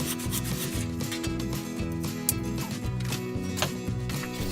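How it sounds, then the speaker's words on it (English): Hand plane working wood slats smooth, a continuous rasping, scraping texture of steady strokes, close and fairly loud throughout with no talking. "And planed them smooth."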